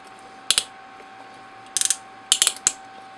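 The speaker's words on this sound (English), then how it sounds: "Make sure that he's got the ratchet on the feet there." A Fewture Models EX Gokin Energer 1969 toy's ratcheted foot joints click in short, sharp bursts of two to four clicks, close and distinct over a faint steady hum.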